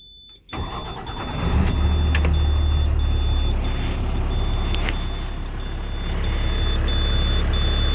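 A 2005 International school bus engine cranks and catches after a brief silence, then settles into a loud, steady, rumbling diesel idle up close.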